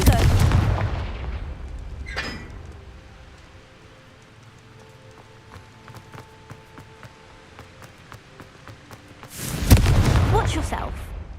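A Confringo fire spell is cast in the video game Hogwarts Legacy, giving a loud blast at the start, then a quieter crackling stretch with scattered sharp impacts, and another heavy burst near the end.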